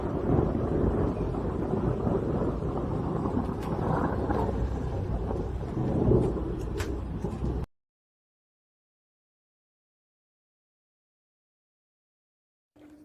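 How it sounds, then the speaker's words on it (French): Thunder from a strong thunderstorm in Bordeaux rumbles low and continuous under wind buffeting the microphone for several seconds, then falls to near silence. "Ouais, c'est un orage fort."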